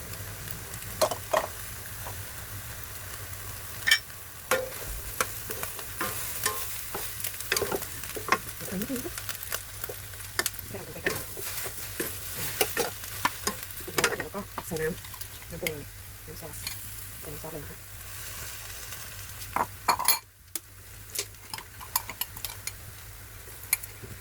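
Vegetables sizzle and crackle in a hot pan for stir-fried instant noodles with egg while a utensil scrapes and stirs in frequent clatters, with a voice talking now and then.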